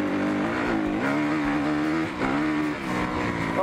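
Fuel-injected motorbike engine heard while riding, a loud, close, steady drone with smooth rising and falling pitch as the throttle is worked, no speech over it.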